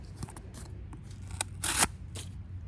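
A folding knife with a normal blade and thin scales slices through packing tape, giving several short scratchy cuts and then one louder, drawn-out ripping tear, all close and with no talking.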